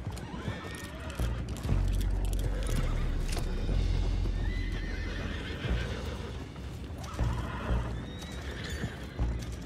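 Horses neigh and whinny in Red Dead Redemption 2, with hooves clip-clopping and heavy low rumble throughout, the whinnies standing out loudly near the start and again toward the end.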